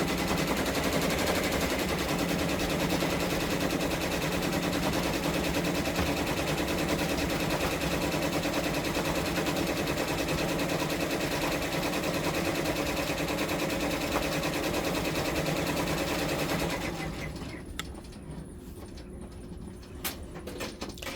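An OESD embroidery machine stitches a Kincade Sea of Tranquility tiling scene quilt block, giving a loud, steady, rapid mechanical needle rattle that runs without a break before suddenly dropping to quiet near the end.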